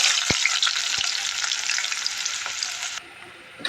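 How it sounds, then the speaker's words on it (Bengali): Chopped onion frying in hot oil in a pot on a stove, a steady, loud bright sizzle close by with a couple of stirring knocks, the hiss dropping somewhat near the end. "চুলায় পাতিল বসাই দিছি তেল দিয়ে দিছি এখন পেঁয়াজ কুচিটা দিয়ে দেবো"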